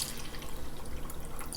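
Liquid drained from freshly churned homemade butter pours through a strainer into a catching bowl, a steady close splashing trickle running the whole moment without a break.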